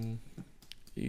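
Computer keyboard keys pressed for a shortcut, a few quick soft clicks close by, mixed in with someone talking.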